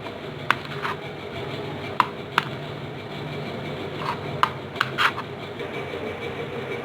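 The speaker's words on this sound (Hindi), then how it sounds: "और इसी तरह हम लोग सब्ज़ मिर्च ये काट लेंगे गाइस" Green chilies sliced with a knife on a board, a handful of sharp, irregular taps spaced out over a low steady hum, close by and fairly soft.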